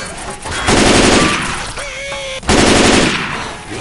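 Automatic gunfire in the zombie shooter Left 4 Dead 2, two loud rapid bursts of shots separated by a short pause, close and harsh, with a brief tonal game sound between them.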